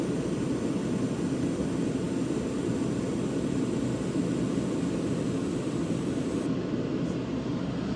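Fiber laser marking slate, a steady broadband hiss and hum running continuously at even loudness throughout, with no talk.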